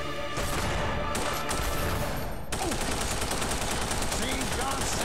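Rapid gunfire from The Punisher on the original Xbox while shooting an enemy: loud, dense bursts of automatic shots, a brief break near the middle, then sustained firing to the end.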